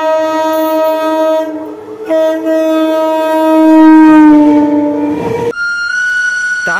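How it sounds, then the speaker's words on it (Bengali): A train on a railway line at the entrance to a village sounds its horn in long, loud, sustained blasts with a dip in pitch partway through, alone with no voices. "আসার পথে লক্ষ্য করলাম গ্রামে ঢোকার পথে একটা ট্রেন লাইন রয়েছে।"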